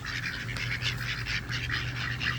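White mallard ducks quack in a dense, continuous chorus while being fed, many birds calling at once close by with steady overlapping rhythm and no pauses.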